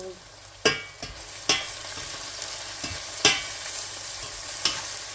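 Onions and okra fry in a pan for bhindi masala, giving a steady close sizzle punctuated by about six sharp stirring scrapes at irregular intervals, with no talking.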